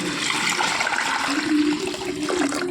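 Steady rush of water streaming into a pot for pappu charu, continuous and fairly loud from start to finish, with no talking.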